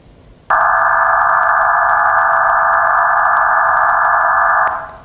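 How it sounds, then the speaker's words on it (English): A loud, steady digital radio modem tone sounds alone as a dense band of buzzing tones, starting abruptly after half a second and holding for about four seconds before fading out. "And this is what the modem tones sound like."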